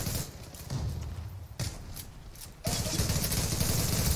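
Rapid automatic gunfire sprays in the video game Zula, dense bursts of crackling shots with short breaks, then a louder sustained stretch near the end, with no talking over it.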